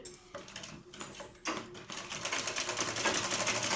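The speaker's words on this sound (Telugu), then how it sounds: "ఇక్కడ స్టిచ్ చేసుకుంటూ వెళ్ళాలి. నేను స్టార్ట్ చేశాను చూడండి." A sewing machine stitches canvas onto a lehenga, a rapid mechanical whir in short bursts that settles into a continuous close run, with no voices over it.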